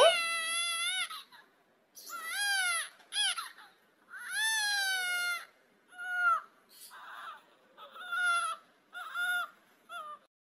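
A baby boy crying in loud, close wailing bursts, each cry a few seconds long, separated by short pauses and weaker whimpers.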